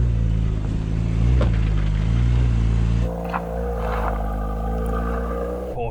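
A Porsche Macan GTS crawls over an off-road course in off-road mode, its engine giving a steady, close rumble that holds, then drops to a lower drone with faint knocks and rattles.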